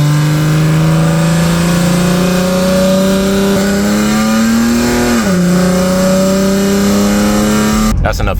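A Lexus IS 250 engine holds a steady rev close by, the pitch climbing slowly, dipping once, then settling before a sharp noise cuts in at the very end.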